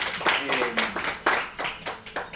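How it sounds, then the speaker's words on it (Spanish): A church congregation claps loudly in a burst of irregular, overlapping handclaps, with some voices faintly mixed in underneath. "Denle un aplauso fuerte al Señor el día de hoy"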